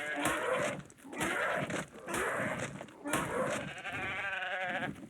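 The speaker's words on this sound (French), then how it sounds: "Voilà, une chèvre qui est morte." A goat in the survival video game ARK gives repeated loud bleating, lowing cries in several bursts as it dies, with game ambience behind and a little talk.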